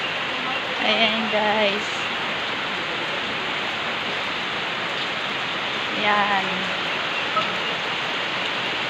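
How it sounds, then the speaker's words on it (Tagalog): Heavy rain pours steadily in a downpour with flooding near a riverside, a dense continuous roar throughout, and a person speaks briefly over it twice. "Lakas ng ulan."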